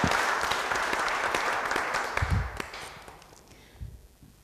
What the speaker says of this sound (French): Des applaudissements encore, s'il vous plaît.